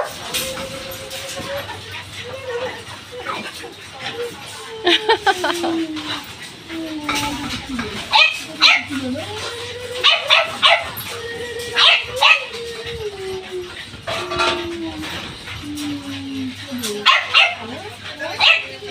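Several dogs bark, yip and whimper excitedly in irregular bursts, close and loud, with a person talking over them throughout.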